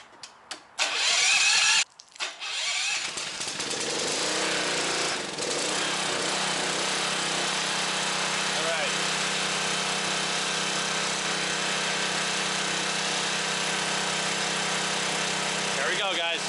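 A snow foam pressure washer's engine cranks with a few sharp pulls, catches and settles into a loud, steady running drone that continues to the end.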